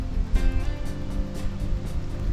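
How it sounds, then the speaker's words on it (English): A waterfall along a hiking trail in Canada gives a close, steady rushing roar of falling water with slight surges. "Here I am walking into the waterfalls."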